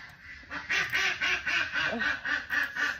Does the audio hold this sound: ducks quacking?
yes